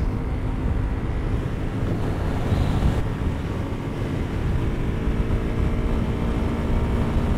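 Steady, loud wind roar buffets the helmet of a rider on a Suzuki Gixxer SF 250 motorcycle cruising at around 115–120 km/h on the Mawa Expressway, a constant rush with no breaks and no talk.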